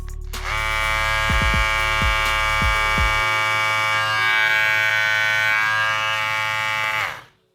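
An MR HJP D10 electric hair trimmer runs with a loud, steady buzzing hum after a few brief starting clunks, holding level for several seconds before cutting off abruptly.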